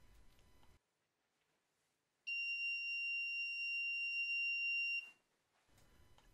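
A buzzer alarm wired to an Arduino with a PIR motion sensor sounds one steady, loud electronic tone for about three seconds after a quiet pause, with faint handling noise before and after.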